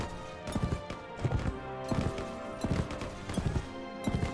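Horse hooves gallop in the Mount & Blade: With Fire and Sword video game, a steady rhythmic drumming of hoofbeats, close and clear, over a humming game backdrop.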